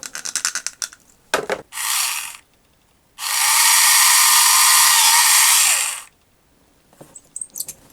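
A handheld drill bores into a vintage Masters of the Universe toy head, whirring in several bursts: two short runs, then a steady three-second stretch, with small clicks and handling noises in between.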